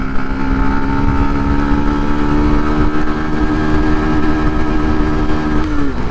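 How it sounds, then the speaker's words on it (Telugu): A Yamaha FZS version 3 motorcycle engine drones loud and close at a steady pitch, running continuously with no pauses. "గేరు టాప్ స్పీడ్ ఎంత పోతుందో ఈ ఎఫ్జెడ్ వర్షన్ 3లో చూద్దాము."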